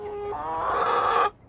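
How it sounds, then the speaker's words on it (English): A single backyard meat chicken calls out nearby, a drawn-out, rising cluck-like squawk that cuts off abruptly. "And then we got meat chickens back there."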